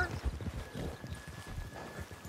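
Hooves of a horse in Red Dead Redemption 2 clip-clop steadily at close range, a continuous rhythmic trot with a faint tonal hum running underneath.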